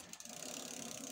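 A Precision bicycle's gear shifter being pulled down, giving a quick burst of fine ratcheting clicks, quiet and close, with no talking.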